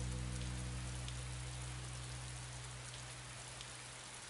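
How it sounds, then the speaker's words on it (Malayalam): Heavy rain pours down steadily, a dense, loud hiss of drops drumming on surfaces with a low rumble beneath, continuous and unbroken throughout. "നല്ല മഴയല്ലേ?"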